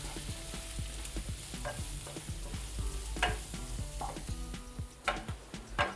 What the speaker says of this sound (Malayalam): സവാള നല്ലതുപോലെ ഒന്നും വാടണേ.